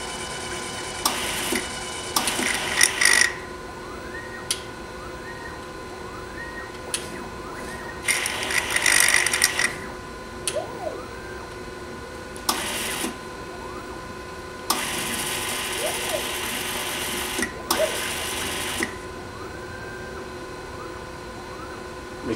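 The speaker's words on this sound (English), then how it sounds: "That sucking sound is a pump." A pump in a laboratory discrete analyzer sucks out wastewater, giving repeated short bursts of whooshing suction between quiet stretches, with faint mechanical ticking and a steady background hum from the instrument.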